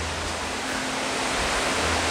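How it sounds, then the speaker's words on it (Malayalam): Iruppu waterfall in Karnataka pours down with a dense, steady roar of rushing water that stays loud and unbroken throughout. "ഇരിപ്പു വെള്ളച്ചാട്ടം. ഹാ, അടിപൊളി വാട്ടർഫോള്."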